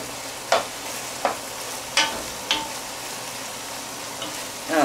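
Turkey stuffing sizzles steadily in a pan as added wine cooks off, with a constant frying hiss broken by several sharp stirring scrapes.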